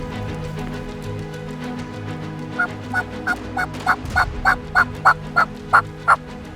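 A wild turkey gobbles in a rapid run of about a dozen evenly spaced notes, moderately close, over a quiet outdoor background.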